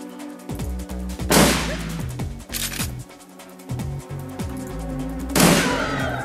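Shotgun blasts fired at a shaman in the Shadowrun video game, with two loud broadband bursts a few seconds apart set among clattering game effects and a steady music bed.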